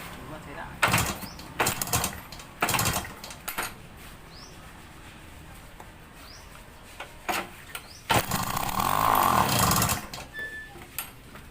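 A Yamaha YL2 motorcycle engine, converted from breaker points to CDI ignition with a KR spark plug coil, starts up with spluttering bursts that settle into a steady running note near the end, with someone talking over parts of it.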